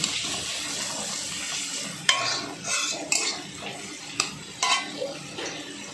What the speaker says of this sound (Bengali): দিয়ে একটু ভালো করে নেড়ে নিচ্ছি